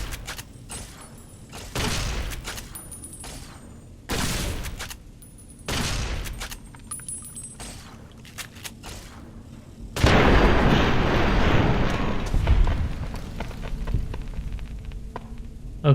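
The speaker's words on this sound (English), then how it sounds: "Firing weapons." Weapons fire in Fallout: New Vegas, with several heavy booming shots spaced across the first stretch and then a denser, sustained burst of firing and rumble that lingers.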